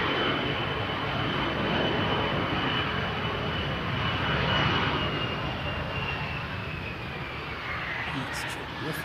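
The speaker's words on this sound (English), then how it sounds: "And it looks like we've got a private coming in." A private jet approaches Christchurch airport, its engines a broad, steady roar from a moderate distance that swells slightly and then eases over several seconds, with a high whine riding on top.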